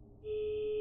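A telephone call tone in a horror video game: after a brief low murmur, a steady electronic tone sets in and holds level and clear to the end, with no talking.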